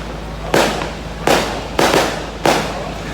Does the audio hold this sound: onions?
no